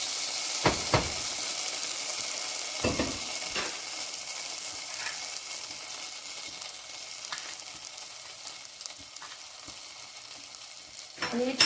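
Potatoes and masala being stirred in hot oil, a steady sizzle with a few sharp scraping clatters of the spoon near the start and end, no talking.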